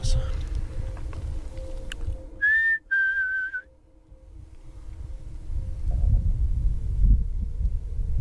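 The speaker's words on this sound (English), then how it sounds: "I swear that was a high-pitched whistle." A thin, high-pitched whistle cuts through a quiet outdoor night in two short tones, the second held slightly longer, over a low rumbling background.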